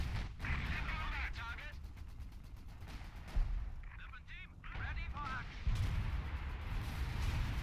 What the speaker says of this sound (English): This area is getting devastated by artillery fire.